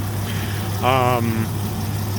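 A 4.0-litre Jeep Grand Cherokee engine from 1999-2004 idles steadily after a head gasket replacement, giving a constant low hum throughout. A voice speaks briefly over it in the middle.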